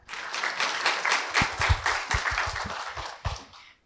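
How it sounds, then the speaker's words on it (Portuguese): Warm audience applause ends a lecture, many hands clapping in a full, sustained round with a few sharper individual claps standing out, then fading away at the very end. "O público aplaude calorosamente o encerramento da palestra"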